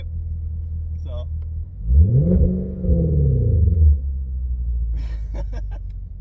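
A V8 Genesis sedan with the stock resonator swapped for an X-pipe and no mufflers revs once, a loud rising and falling roar over a low idle, with brief voices before and after.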